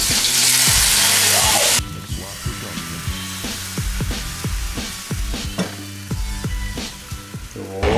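Pancake batter frying in a pan for Latvian-style pancakes, a loud sizzle at first that settles into crackling with repeated scraping and stirring taps close up.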